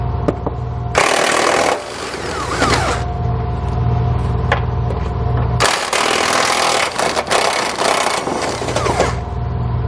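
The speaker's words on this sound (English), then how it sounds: "We're going to use a 21mm socket to remove those." Frame bolts on a 2020 Jeep Grand Cherokee are run out with a 21mm socket on an impact wrench, giving two long, loud rattling bursts separated by a pause, close up.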